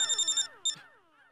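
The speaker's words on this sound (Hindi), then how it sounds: "फोन उठाइए" Telephone ringtone chirping in quick bursts, a short electronic trill that stops, then one brief ring before it fades out.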